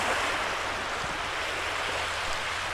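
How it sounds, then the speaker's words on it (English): Small waves lap steadily along the Delaware Bay shore at Cape Henlopen, a continuous broadband wash of surf with no pauses, heard alone at moderate level. "That's why the waves aren't so big here anymore."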